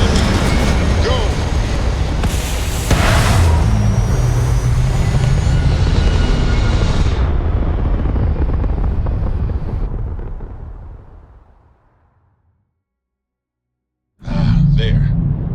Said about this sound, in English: Ready for takeoff in 3, 2, 1, go!